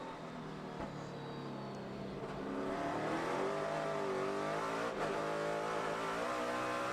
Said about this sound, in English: Coming into 7, downshift.